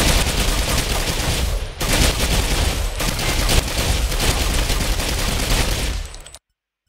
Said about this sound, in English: So for me this is very fast SMG, LMG.